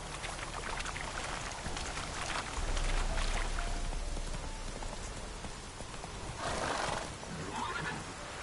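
Roach, a horse in the video game The Witcher 3, whinnies and neighs over steady rain and hoofbeats, with a louder neigh swelling near the middle and another toward the end.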